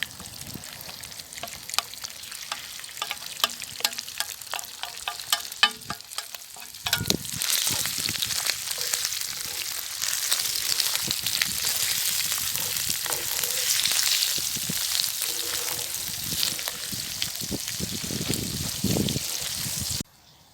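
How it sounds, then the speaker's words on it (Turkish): Liver poured onto melted fat in a sac pan, a steady loud sizzle and crackle of frying that swells after a quieter stretch with scattered clinks, continuing strongly to the end. "Erittiğimiz yağların üzerine ciğerimizi döküyoruz"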